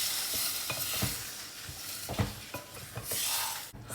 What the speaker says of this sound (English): Now I will be adding the tomato.